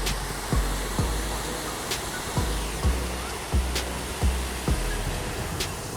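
Steady, broadband rushing of Tham Phra waterfall in Bueng Kan, Thailand, flowing over a broad rock terrace, fills the whole clip, with a few soft low thumps and faint ticks scattered over the roar.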